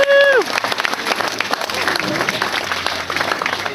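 An audience at a sheep show claps for nine woolly sheep, a dense patter of applause after a brief whistle-like tone, with voices mixed in.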